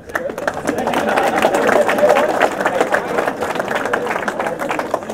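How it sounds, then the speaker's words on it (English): A crowd at the 2018 Danske Bank Rafferty Cup final replay gives a dense, steady round of applause for the referees, with a voice speaking over the clapping and crowd murmur throughout. "Round of applause for them."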